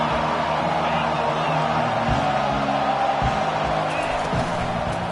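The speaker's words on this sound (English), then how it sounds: "This crowd bringing an ear-splitting welcome to their visitors." A stadium crowd at a college football game roars loudly and steadily, a dense wall of cheering that fills the whole stretch, with a commentator's voice running over it.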